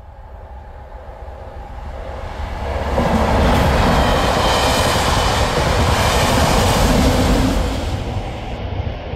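A pair of Class 37 diesel locomotives on a test train pass over a level crossing, a rumbling, clattering roar that swells from a distance, holds loud and close for several seconds, then begins to ease.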